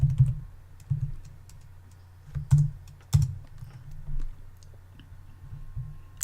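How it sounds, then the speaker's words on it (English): Keys clatter on a computer keyboard while a web address is typed into a browser, a few quick clustered bursts of clicks at a moderate, close level with no talking. "Gonna type localhost 5000"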